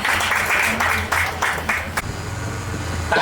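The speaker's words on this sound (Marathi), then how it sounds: "टाळ्या होत्या जरा" Audience at a college games event clapping in a brief burst of rhythmic applause that fades after a couple of seconds into a low hum of background noise and engine-like rumble.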